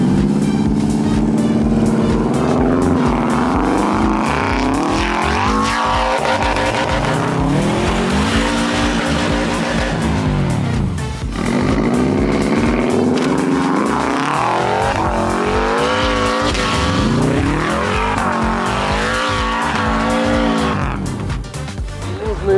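A Volkswagen Tiguan and a Subaru WRX STI race car launch hard, engines revving and falling in loud waves with tire squeal and skidding, while people talk over the roar.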